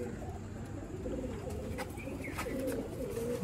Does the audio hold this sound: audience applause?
no